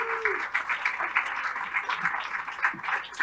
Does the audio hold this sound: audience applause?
yes